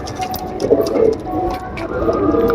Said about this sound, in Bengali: এইগুলো একটা রেয়ার পায়রা